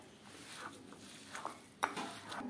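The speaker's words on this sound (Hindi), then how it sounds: "अब हम इसको मिक्स कर लेते हैं, इसको अलग मिक्स करेंगे।" Boiled chicken being stirred into a mashed potato kebab mixture by hand or spoon, with soft irregular squelching and scraping and a sharper knock near the end, faint and close with no talking.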